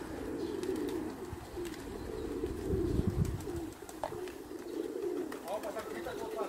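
Pigeons coo in low, soft, repeated murmurs inside a pigeon loft, a steady burble close by with rustling and occasional people talking.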